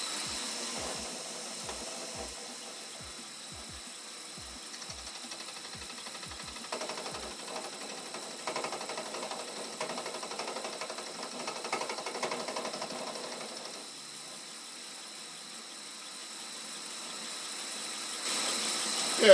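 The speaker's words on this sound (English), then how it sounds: "The way this cutter's set up, we'll run the mill in reverse." A milling machine running in reverse cuts metal while machining a rear tool post for an Atlas 10-inch production lathe; a steady mechanical hum with rhythmic ticks early on continues throughout, fairly quiet and with no talking.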